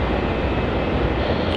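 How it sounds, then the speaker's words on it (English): A Qantas airliner, flight 918, departs off runway 27 at Melbourne Airport, heard as a steady, loud broadband jet roar that holds constant throughout, with no talk over it. "Our next departure off runway 27 is QF flight 918, headed off to the Sunshine Coast."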